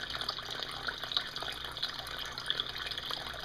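Water pouring and gushing steadily as it fills back up in a home aquaponics setup, a continuous moderate splashing flow with no voices.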